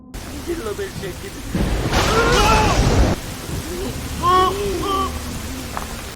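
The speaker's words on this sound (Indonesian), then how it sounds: "Tiba-tiba saja hujan turun." Rain bursts in during a storm scene from the Korean film The Wailing (2016), a brief rushing downpour with a rumble among music and a narrating voice that continues around it.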